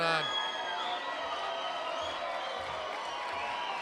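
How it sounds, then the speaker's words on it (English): A fight-night crowd at a 220 lb bout jeers and boos a split decision in a sustained, droning roar that fills the arena, while an announcer talks over it. "Fans didn't like that decision, John. A lot of booing going on."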